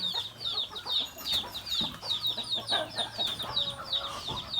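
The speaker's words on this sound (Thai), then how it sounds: "ชมเป็ดชมไก่ที่บ้านสวน" Chickens clucking and chirping around a rural garden farmhouse, a rapid series of small repeated calls at moderate distance over quiet open-air background, with a brief thump midway.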